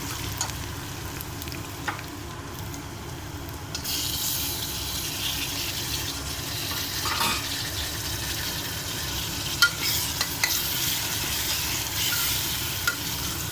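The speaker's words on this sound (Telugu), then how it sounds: "పచ్చి వాసన పోయాక టమాటోస్ వేస్తామండి. టమాటోస్ వేసుకుందామండి." Tomatoes sizzle and fry in a pan for a drumstick tamarind stew, with a steady close frying hiss that swells louder partway through, broken by occasional stirring scrapes and clinks.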